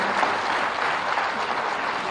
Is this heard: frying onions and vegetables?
no